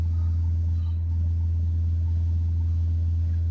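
A Peugeot 308 2.0 HDi diesel engine holds a steady, raised hum at about 2500 RPM, a loud, even rumble close by, running without pause.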